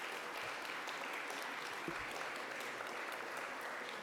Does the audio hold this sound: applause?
yes